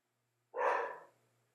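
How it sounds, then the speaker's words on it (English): Border collie giving a single sharp bark in the background, brief and fairly faint, with no other sound around it. "That background barking is my border collie Darcy"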